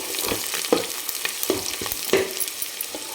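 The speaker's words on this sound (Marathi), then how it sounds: "ते टाकून घेऊ आपण कांदा आपल्याला सोनेरी कलरवर तळून घ्यायचा आहे" Two sliced onions fry in oil toward golden brown, a constant close sizzle broken by rhythmic stirring strokes roughly every second.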